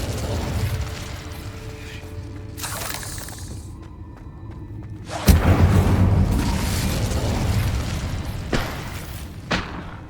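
The Incendio fire spell is cast in Hogwarts Legacy with a sudden booming whoosh of flame midway, followed by a roaring crackle and a couple of sharp bursts. Before it comes quieter magical shimmer and mechanical clicks.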